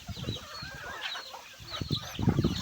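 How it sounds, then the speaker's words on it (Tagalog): Several chickens cluck and chatter on a hillside farm, a busy overlapping flock nearby with irregular bursts of clucking growing louder toward the end. "Ang dami ng manok."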